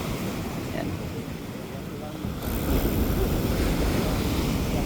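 Ocean waves wash along the Davao City coastal road on a car-free Sunday, a continuous soft surf hiss mixed with wind buffeting the microphone, growing louder partway through.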